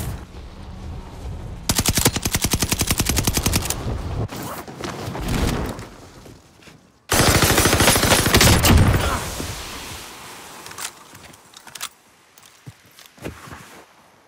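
Bursts of automatic gunfire in a video-game firefight, with rapid rattling volleys near and loud, two long sustained bursts separated by pauses, then scattered single shots and a few distant pops.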